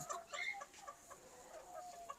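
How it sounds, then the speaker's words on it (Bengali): Cochin bantam chickens, a foreign breed on a farm, clucking softly in short, scattered calls, faint and somewhat distant with light background noise. "এই যে বিদেশি মুরগিগুলো দেখাচ্ছি আপনাদের, দেশীয় জাতের না"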